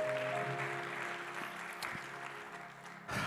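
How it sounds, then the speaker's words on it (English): Church congregation applauding throughout a worship service, a steady broadband wash of clapping with a faint sustained tone beneath, growing louder again right at the end. "Come on, give God another great big round of applause."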